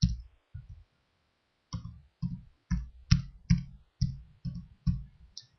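Keys tapped on a computer keyboard while an email address and password are entered to log in, clusters of close, crisp clicks in short irregular bursts with a pause near the start.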